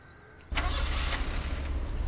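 An ambulance engine starts up in the Rettungswagen-Simulator 2014 driving game, a quiet hum jumping to a loud rumbling crank and then settling into a steady running drone.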